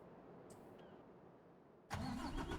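A truck engine in Farming Simulator 25 starts up abruptly after a quiet stretch, a loud full rumble that holds steady to the end.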